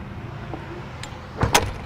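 A short metallic creak as a small tack door on a 2022 Logan Coach Riot 3-horse gooseneck trailer swings, followed by a sharp snap as it shuts, close and fairly loud.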